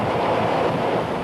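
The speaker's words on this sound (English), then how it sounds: "the water's just whipping up, the wind is whipping up, the surf is just coming right across the front of our" Hurricane Andrew's wind and surf whipping up along a waterfront street, a steady roaring rush of wind buffeting the microphone with crashing water noise, loud and continuous throughout.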